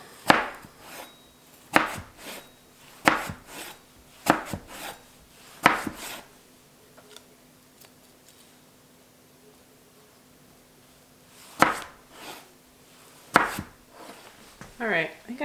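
Apples are chopped with a sharp knife on a board in bursts of crisp, close cuts, a cluster of strokes, a long quiet pause, then a few more chops, with a faint steady hum underneath.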